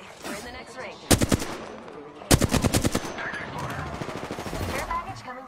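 Rapid bursts of automatic gunfire in a battle-royale video game, two loud strings of shots around a ring closing, with players talking over and between the bursts.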